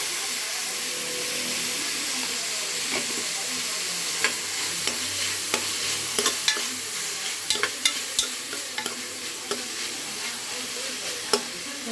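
Ginger garlic paste frying in a pan for a farm chicken curry, a constant close sizzle and hiss with a run of sharp spatula taps and scrapes through the second half.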